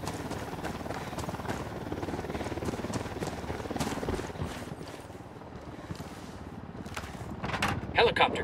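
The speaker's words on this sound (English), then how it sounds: "Helicopter, get down." A helicopter's rotor chop in the video game Ghost Recon Wildlands thrums steadily beneath game sound effects and speech, with sharp bursts rising near the end.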